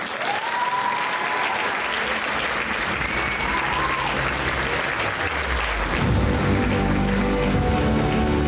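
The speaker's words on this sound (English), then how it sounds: "Let's give her a good applause." Audience applause welcoming Jennifer Bushman at a presentation event, continuous dense clapping from a crowd that swells louder near the end.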